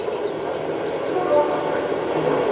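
A G scale garden model train with DCC sound pulls away with a steady hissing rumble at a constant level, and no distinct whistle stands out.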